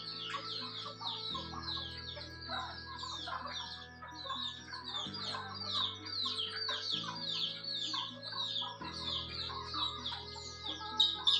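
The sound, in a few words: pure native chickens eating and clucking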